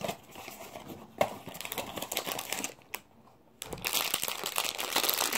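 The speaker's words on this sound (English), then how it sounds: "If I can open the box." Cardboard and packaging rustle and crinkle close by, with scraping, tapping and a brief quiet pause before the handling resumes.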